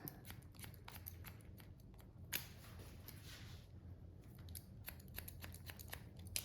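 Scissors point-cutting hair for a short pixie haircut, a rapid series of crisp, close snips repeating steadily throughout, quiet and alone.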